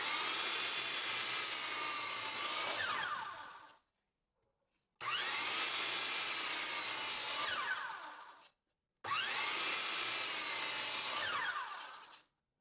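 A power saw cuts wooden pieces for a floating shelf in three long passes, each a loud, steady whining buzz lasting about four seconds, separated by short silences.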